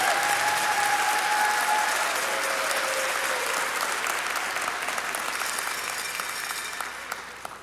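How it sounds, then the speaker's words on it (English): A round of applause from the audience at a culinary school spring commencement, broad and steady clapping with a faint tone briefly sounding through, gradually tapering off toward the end. "let's have another round of applause for our"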